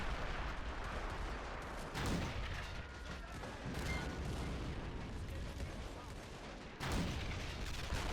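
Mortars and howitzers firing during a WW1 battle in a video game, with a dense rumbling barrage and two louder booming blasts standing out against the continuous battlefield noise.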